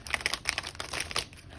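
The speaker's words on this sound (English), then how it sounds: "That was a terrible shuffle. Let me redo that." A tarot card deck being shuffled by hand makes quick crisp papery riffles and crinkly flutters in short bursts, close and fairly loud, with no voices.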